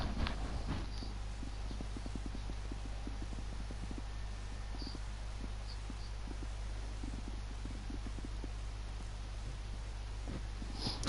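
Horse hooves clip-clop steadily in Red Dead Redemption 2, a continuous even rhythm of soft thuds over a low rumbling background, with no voices.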